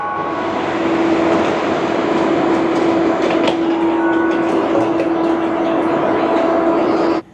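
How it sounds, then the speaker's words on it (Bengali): KLIA Transit airport train running between terminals in Kuala Lumpur, a steady onboard rolling rumble with a constant electric whine and occasional clicks, continuous and fairly loud before cutting off abruptly. "কিলা ট্রানজিট হচ্ছে এখানকার ট্রেন।"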